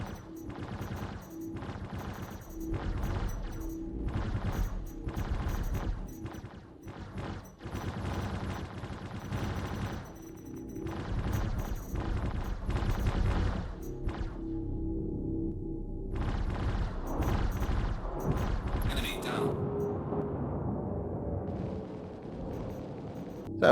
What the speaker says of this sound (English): I'm going to let the boys in the other turrets with their laser repeaters soft kill the target